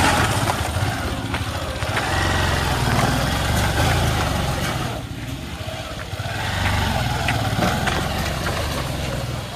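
Motorcycles climb steep stairs at Parasnath Hill, Jharkhand, their engines giving a steady rumbling drone that swells and eases as they rev. Faint crowd voices sit in the background.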